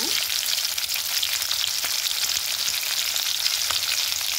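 Garlic frying in oil in a pan for Andhra village-style okra chutney, a dense, constant loud sizzle throughout with no voices.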